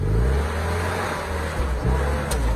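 An old jeep engine drones low and steady as it drives across a field and down into a ditch, with a faint rising whir near the end and no speech.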